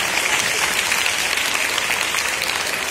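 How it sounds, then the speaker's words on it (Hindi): Loud, continuous applause fills a school prize ceremony as many pupils clap together in a thick, unbroken wash of sound with no voices standing out. "देखिए आपके दीदी भैया लोग ताली बजा रहे हैं"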